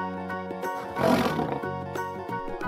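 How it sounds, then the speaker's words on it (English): A lion gives a single loud, rough roar that swells and fades over a steady bed of background music, heard close with no talking. "Lion."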